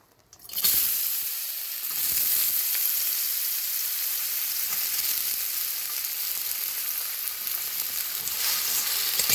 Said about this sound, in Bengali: এবার আমি আলুটা একটু ভেজে নেব।